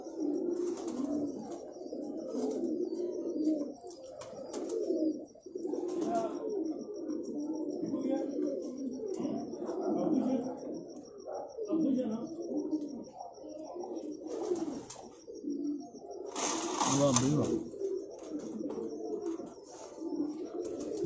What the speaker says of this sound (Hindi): बड़े पल्लों के कबूतर हैं जी,